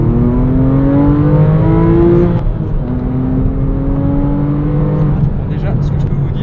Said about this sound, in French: Bon ça sonne bien, ça accélère bien fort, le moteur est plein comme un œuf.